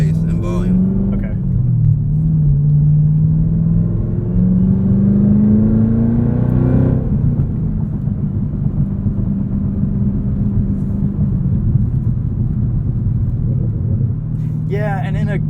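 A 2022 Chevrolet Camaro ZL1 manual coupe rumbles loudly from inside the cabin, its engine note rising through a gear and then falling off into a low, steady drone with a few crackles near the end.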